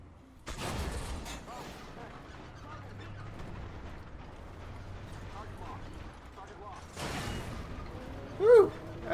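Tank cannon fire in the Armored Warfare video game, with a Stingray 2 light tank in combat: two loud broadband blasts about six seconds apart, a rumbling battle bed between them, and a short tonal ring right after the second shot.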